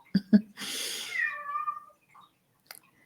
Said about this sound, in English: My cat has locked herself in the bathroom.